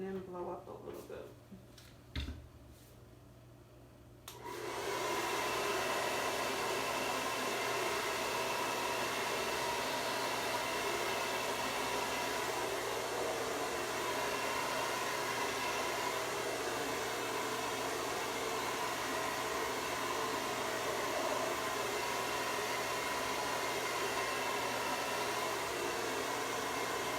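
A hair dryer blows wet paint on a canvas at a paint night, a steady loud rushing whoosh that switches on after a few seconds of quiet handling noises and then runs continuously.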